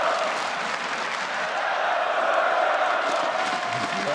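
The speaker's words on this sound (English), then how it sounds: "You can hear the crowd there" A large arena crowd roars and cheers steadily throughout a League of Legends esports third-place match between CLG and IMT, a dense, sustained wash of applause and shouting with no pauses.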